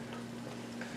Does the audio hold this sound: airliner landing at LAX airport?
no